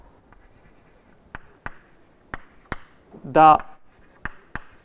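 Marker or pen strokes tapping and scratching on a board while a Hermitian matrix eigenvalue equation is written out, a series of short sharp clicks with a brief scribbling burst, and someone speaking briefly.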